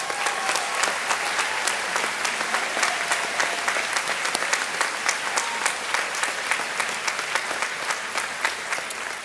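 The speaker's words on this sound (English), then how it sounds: "let's give them another big round of applause" Applause from a large crowd at a 2021 high school graduation ceremony, steady, even clapping that fills the space, sustained at a constant level with no speech over it.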